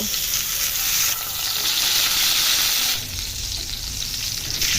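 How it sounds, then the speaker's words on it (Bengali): Eggplant slices fry in a pan of hot oil with a steady, loud sizzle that eases slightly partway through and then swells again, close up and without any voices. "সমস্ত বেগুনকে এইটটি পারসেন্ট মতন কুক করে ভেজে তুলে নিতে হবে"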